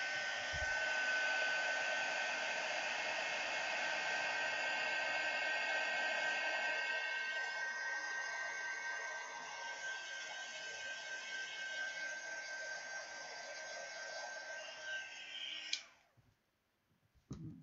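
Heat embossing tool blowing hot air, a loud, steady close whooshing hum that runs unbroken for about sixteen seconds before switching off with a click, leaving near silence.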